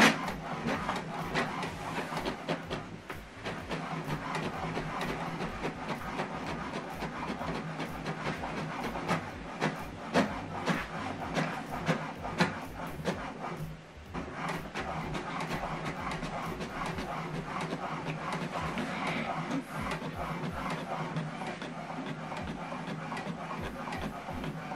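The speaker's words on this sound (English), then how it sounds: "Now this document is printing." An HP Deskjet printer prints a document, a continuous mechanical whirring and clicking with rhythmic carriage passes and a brief pause midway, heard close by with no talk.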